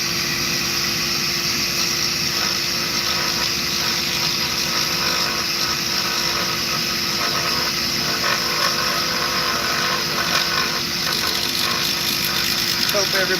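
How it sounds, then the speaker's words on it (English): A small carbide rotary cutter carves wood in a continuous buzzing, grinding drone that holds steady and fairly loud throughout, with faint background noise mixed in. "Using my little carbide cutter."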